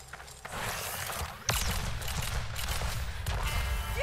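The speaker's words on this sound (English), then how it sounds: "Rapid fire." Rapid gunfire from Billy in Wild Bastards, a space western strategy game: a fast run of crackling shots with sharp louder cracks at intervals, steady and close.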